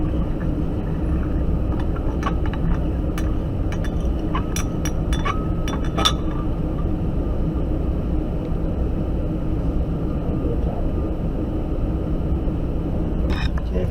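Zinc and copper solution stirred gently in a glass flask, giving a run of light glassy clinks and taps over a steady low rumbling background, busiest in the first half and fading to quiet stirring.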